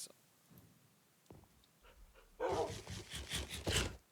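Pet dogs panting in the video game Minecraft: a few faint clicks, then a burst of rapid, rhythmic breathy panting close up for the last couple of seconds, with no talk over it.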